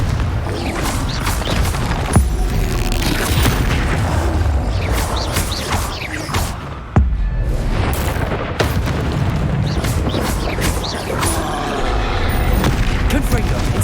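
Spell blasts from Hogwarts Legacy combat, including the Confringo explosion spell, go off as repeated booming bursts and sharp cracks over a busy backdrop of magical effects, with a voice talking across them.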